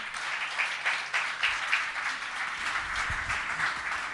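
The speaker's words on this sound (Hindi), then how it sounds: "जोरदार ताली हो जाएगी।" A seated crowd at a Jain religious discourse gathering applauds, producing a fairly soft, continuous patter of clapping that swells and eases slightly in waves.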